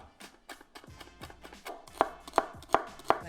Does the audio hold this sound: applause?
no